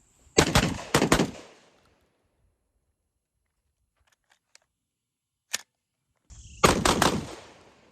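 A Benelli M2 inertia-driven shotgun fires in quick pairs of sharp, loud blasts: two close shots near the start, a lone crack later, then another rapid burst at the end, with quiet gaps between.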